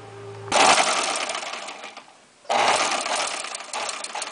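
A straight-stitch sewing machine stitches a hem in two close, loud bursts of rapid whirring, the first about two seconds long, then a short pause before the second run starts.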